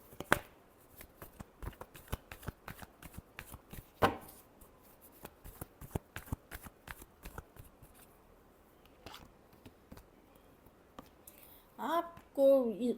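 Tarot cards being shuffled by hand, a quick run of crisp, quiet riffling snaps and taps, with a brief burst of speech at the very end.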